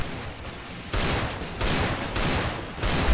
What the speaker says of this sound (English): Sawn off! Sawn off shotgun!